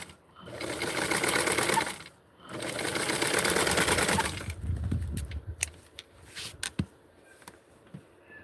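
A sewing machine stitches fabric for a small doll shirt in two steady, close runs of rapid mechanical chatter, each a couple of seconds long, followed by scattered clicks and handling noises.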